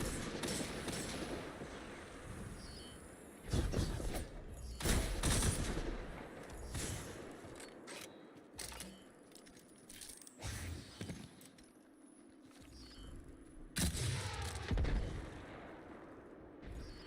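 Gunfire with recoil from weapons in Destiny 2 Crucible player-versus-player combat, heard as bursts of shots and loud clustered blasts separated by quieter stretches, with no talk.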